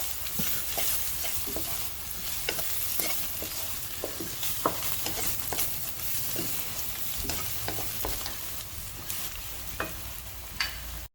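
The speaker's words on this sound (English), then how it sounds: "So we will saute it like for about 15 to 30 seconds." Cumin powder and salt sizzle and fry in a hot pan, a continuous crackling hiss punctuated by the scrape and clack of a spoon stirring, close and with no talking.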